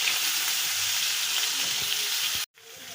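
Ground ginger, garlic and green chilies fry in ghee with a loud, continuous hiss and crackle, a few stirring taps underneath, then a sudden brief cutoff near the end before the sizzle returns.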